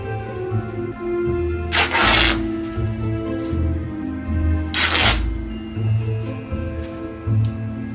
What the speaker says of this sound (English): Cut it one more time for the other sheet that was cut in half.